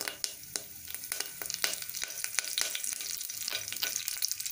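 Mustard seeds and curry leaves sizzle and crackle in hot oil for milk sambar, a steady frying hiss broken by sharp pops and spatters close by, with no voices.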